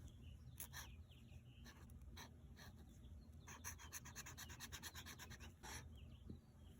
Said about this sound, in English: It's so nice being able to hear birds outside.